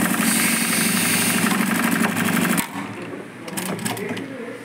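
A Sansei SA-D1541S triple-feed industrial sewing machine, running without oil, gives a loud, close, fast-pulsing mechanical drone that stops abruptly partway through, leaving quieter clicks and handling noise.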